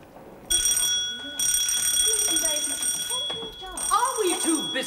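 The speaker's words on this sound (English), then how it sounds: "Just see that those bells are answered" An electric bell rings in long, steady shrill bursts with short gaps in between, loud and close, while people talk under the ringing.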